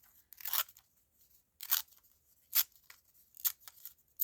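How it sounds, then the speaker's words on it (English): A white edge being torn off a sheet of paper, four or five short crisp rips with quiet gaps between them, close by and alone. "So I'm just tearing off that white edge."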